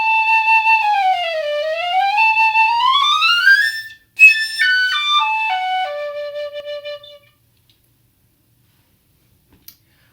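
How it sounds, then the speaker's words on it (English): A wooden piccolo plays a bright, high solo line of sliding and stepping notes, clear and close, ending in a descending run and then silence with a faint tick at the end. "It's a higher pitched, smaller version of the flute, which is made of wood, and it sounds like this."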